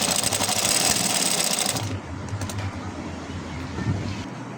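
Sewing machine stitching a seam on the body of a frock, running steadily at first, then fading into a quieter, busier background with faint room noise; no clear voices.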